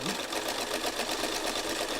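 A sewing machine runs steadily and close, a fast even mechanical whir with rapid regular stitching pulses throughout.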